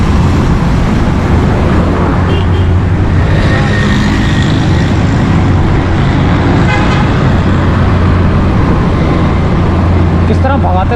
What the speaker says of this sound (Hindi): ऐसे भगाते हुए टैंकर जा रहे हैं और इतने हैवी टैंकर है ना